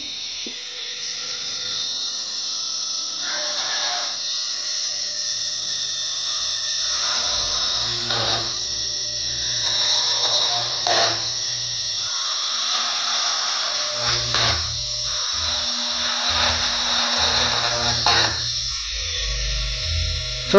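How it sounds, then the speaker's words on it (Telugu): A small homemade mini drill machine drilling holes, giving a steady thin whirring motor whine with faint scraping as the bit is pressed and dragged, fairly quiet and continuous, with no talking. "ఇప్పుడు డ్రిల్ చేసి ఇలా కిందకి డ్రాగ్ చేస్తే హోల్ అయితే పడుతుంది"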